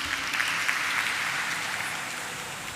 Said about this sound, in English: May I have please a big round of applause for him?